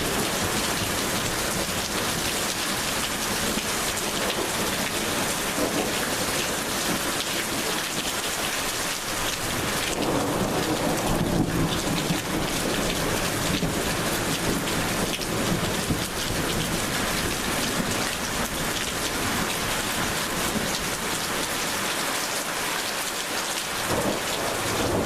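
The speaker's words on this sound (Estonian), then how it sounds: "Tugev vihmasadu kestis pikalt ja äike oli üsna intensiivne." Heavy rain pours down steadily during an intense summer thunderstorm in a rural area, with a dense, loud hiss of rain and deep rolling thunder swelling underneath, no voices.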